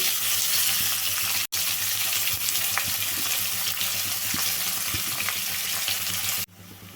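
Thinly sliced onions and fenugreek seeds frying in hot oil for a bitter gourd pulusu, with a continuous close sizzle and a few faint stirring clicks, then an abrupt stop near the end.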